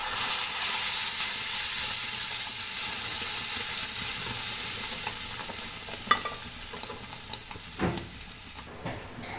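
Dal tipped into golden-brown fried onions in a hot pan, giving a steady close sizzle with a few scrapes and soft knocks of the spoon toward the end.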